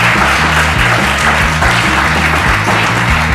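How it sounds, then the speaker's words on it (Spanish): Dense, steady audience applause rises for two guests, an illustrator and a film director, at the close of a live podcast session. It stays loud and continuous throughout, with a low tonal hum underneath. "Un aplauso para ellas"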